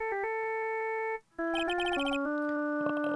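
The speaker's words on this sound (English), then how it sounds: "And I bet it was this ringtone that caused it." A cheerful melodic phone ringtone from the Phoenix Wright courtroom video game plays loud and clear, a short synth phrase that pauses briefly, then repeats with busier, buzzing notes.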